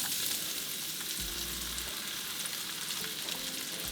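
Potatoes fry in bacon fat with a steady, dense sizzle that holds at an even level for several seconds, heard up close with no voices.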